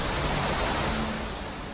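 Water rushing through a dam in Bern, Switzerland, a steady broadband roar of churning flow that holds constant and eases slightly toward the end.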